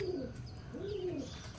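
A caged pigeon collecting neem twigs coos twice, low and throaty, against steady background noise with faint higher chirps.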